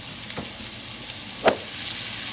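Sausages frying in a pan, a steady close sizzle with a sharp crackle and a soft clack partway through.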